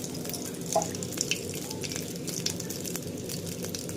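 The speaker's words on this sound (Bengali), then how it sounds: "তেলের মধ্যে জিরে ফোড়ন দিয়ে দিলাম।" Cumin seeds crackle and sizzle in hot oil in a pan, a soft, steady frying hiss with a few tiny pops, quiet and close with no voices.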